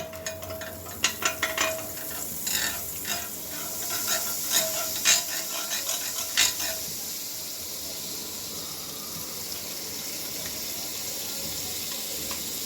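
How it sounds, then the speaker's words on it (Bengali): Butter sizzling in a hot frying pan on a gas stove, a steady hiss with crackling pops and clinks through the first half, then settling into an even sizzle alone. "এবার অল্প একটু বাটার জাস্ট প্যানের মধ্যে দিয়ে দেব।"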